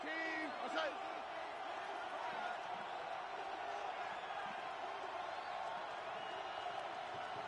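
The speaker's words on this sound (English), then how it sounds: "the crowd getting into it as we come up on a big third down" Stadium crowd at a football game ahead of a big third down, a steady distant roar of many voices with some louder whoops, under speech.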